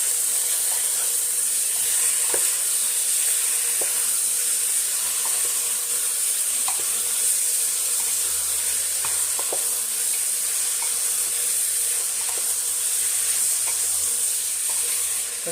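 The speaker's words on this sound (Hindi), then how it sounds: "मटनटा को आम पियाज सहित भल भाव मिक्स करना" Mutton and onion sizzle continuously in a pan on a gas flame while a spoon stirs them, with scattered scraping clicks over a steady loud frying hiss and no talking.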